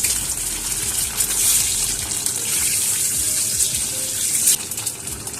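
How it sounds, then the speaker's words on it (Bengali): Duck eggs drop into hot oil and fry with a loud, continuous broadband hiss that barely changes, close by, with no voices. "আমার তেলটা গরম হয়ে গেছে, আমি এর মধ্যে এবারে ডিমগুলো ছেড়ে দিলাম"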